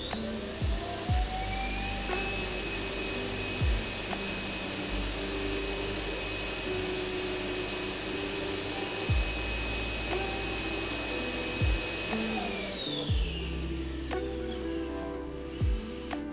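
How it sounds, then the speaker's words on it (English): A home vacuum cleaner runs with a steady, loud droning whine and high tones, broken by occasional dull knocks. It winds down near the end and leaves quieter thumps. "I quickly check something with our home vacuum cleaner"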